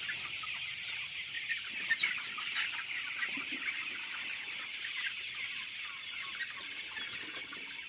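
Flock of 35-day-old chickens on a poultry farm, clucking and chattering continuously as a dense, moderately distant wash of bird noise with no single standout call.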